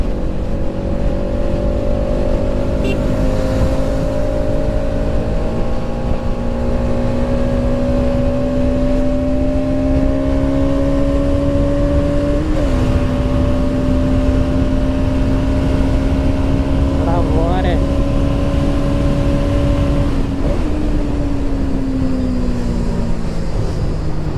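A Bajaj NS 200 motorcycle holds a loud, steady high-rpm engine whine above 7000 rpm, its pitch creeping slowly upward with brief dips during shifts or throttle changes.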